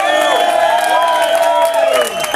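A live concert audience cheers and claps, a bright mix of whoops and applause that swells, then tapers off near the end.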